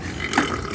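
One short, low burp, close and fairly loud, over a steady background hum.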